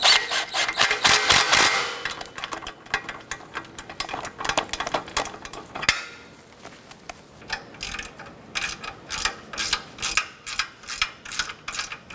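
Rapid ratcheting clicks in bursts, loud at first, then a pause and more short clicking strokes of a ratchet wrench tightening an exhaust bolt on a 2008-2012 Honda Accord, no voices.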